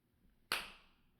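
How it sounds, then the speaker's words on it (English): A single loud, sharp clap rings out alone after near silence, then decays quickly. "Can you just do a big clap"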